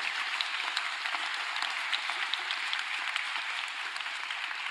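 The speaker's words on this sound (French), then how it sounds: "si on peut l'applaudir une dernière fois" A large audience gives a collaborator one last round of applause, dense, steady clapping that holds at an even level throughout and is heard from a moderate distance without talk.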